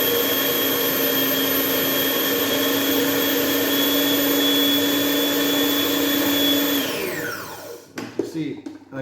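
A food processor whirs loudly and steadily while blending egg into a mixture, holding a high motor whine for several seconds. It then spins down with a falling pitch, followed by a few clunks and rattles as it stops.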